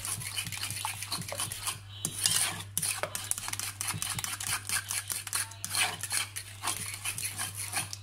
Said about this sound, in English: So quite a bit of stirring.